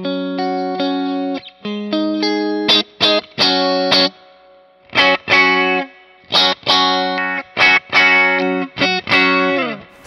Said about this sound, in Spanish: básicamente así suena la guitarra sin el pedal